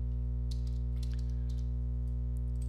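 Soft keystrokes on a computer keyboard while text is entered into a Postman request, scattered quiet clicks in small bursts over a strong constant electrical hum, with no talking.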